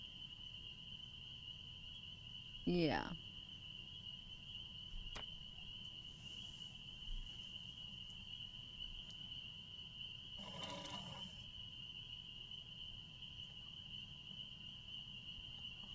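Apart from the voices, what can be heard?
insects and frogs at night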